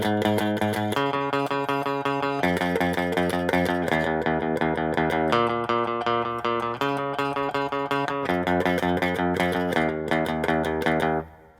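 Loud distorted electric guitar plays a riff, with steady, rhythmic note changes ringing over roughly eleven seconds before cutting off abruptly. The guitar plays alone, with no talking.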